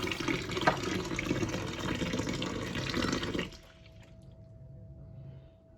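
Water splashes and sloshes close by as fenugreek plants are rinsed, steady for about three and a half seconds before it stops abruptly, leaving a faint hum.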